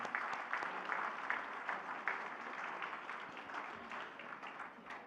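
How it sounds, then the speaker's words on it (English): Soft, distant applause from an audience at the Kiwi Indian Hall of Fame awards evening, a scattered, rhythmic patter of clapping that gradually thins out over five seconds. "So let's have an applause for everybody concerned."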